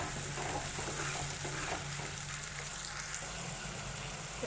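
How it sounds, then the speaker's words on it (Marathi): Ground masala paste frying in oil in a kadhai, a continuous soft sizzle with light stirring and scraping throughout, close and steady. "हा मसाला आपल्याला तेलात छान फ्राय होऊ द्यायचा आहे."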